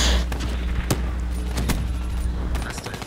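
Gunfire from a video game machine gun comes as a few sharp, separated bursts over a dense background of game noise, loud and close.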